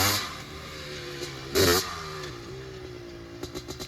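A Honda ATC250R three-wheeler with a 310 big bore engine runs on a dirt track, its mid-pitched engine droning steadily with a brief louder burst and rattling clatter.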